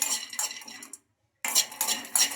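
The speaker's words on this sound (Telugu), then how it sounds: "పల్లీలను కొంచెం కలర్ చేంజ్ అయ్యే వరకు అయితే ఫ్రై చేసుకోవాలి" Peanuts roasting in a kadai, a dry rattling clatter of nuts against metal with a short silent gap midway, close and fairly loud.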